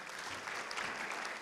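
Applause rolls steadily from an audience greeting panel speakers at a conference, a brief, even burst of clapping heard at a modest distance.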